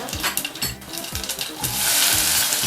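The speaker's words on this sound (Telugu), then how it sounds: "కొంచెం ఆయిల్ వేసుకొని జీలకర్ర, ఆవాలు వేసుకొని వేగనివ్వాలి." Cumin and mustard seeds frying in hot oil in a pot on a stove give a close, continuous crackling sizzle, with utensil clinks and scrapes against the metal.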